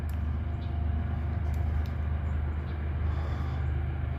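A long freight train pulling uphill through Abbeville, heard as a heavy, steady low rumble with droning engine tones, constant and close, with no talking.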